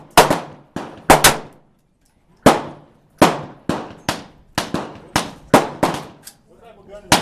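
Gunshots from an M&P 50 at an outdoor shooting range, about a dozen loud, sharp reports spaced irregularly, each ringing out and decaying before the next, with faint voices in the background.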